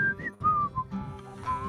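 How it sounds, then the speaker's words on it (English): A person whistles a short tune in clear, sliding pitched phrases with brief pauses between notes, close and alone over a faint low background. "I can hear you whistling all the way to our door"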